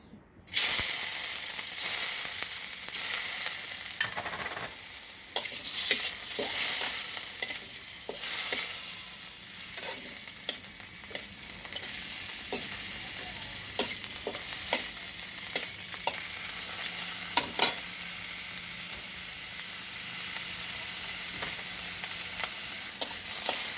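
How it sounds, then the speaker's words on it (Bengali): Three shrimp roast in a pan without salt, a continuous hiss and crackle that runs for a long stretch with frequent scraping stirs and clicks of a spatula. "লবণ ছাড়া আমি হালকা টেলে নিব।"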